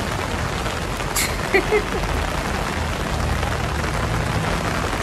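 Rain falls steadily in Antananarivo, Madagascar, a dense, even hiss of drops filling the scene for several seconds, with a couple of brief faint sounds rising just above it midway.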